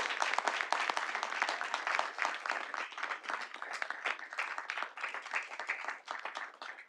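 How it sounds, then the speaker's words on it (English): Audience at a city board of directors meeting applauds a school marching band, steady crowded clapping sustained for about seven seconds at even loudness. "Let's give them a round of applause for that"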